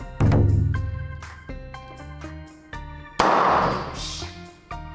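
A sharp, loud bang as a highball can bursts open, followed by ringing, tinkling tones and a hiss of spraying liquid.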